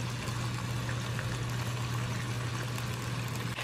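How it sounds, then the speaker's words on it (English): Slices of Italian sausage fry in a pan, giving a steady, even sizzle with a low hum beneath it and no voices. "So you slice it into thin ones and you just fry it until it's a little brown."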